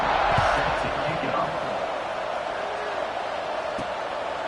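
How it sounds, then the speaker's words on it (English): Crowd at a college football game between UCLA and Oregon, a broad steady roar filling the stadium with scattered shouts and cheers rising through it, loud and continuous. "this crowd is buzzing after that last score"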